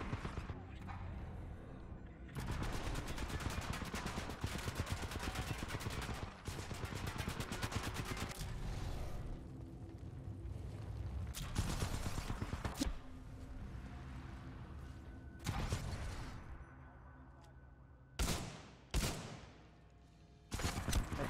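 Heavy automatic gunfire in the shooter game Titanfall 2 runs in long, loud bursts with short breaks between volleys, and someone talks throughout.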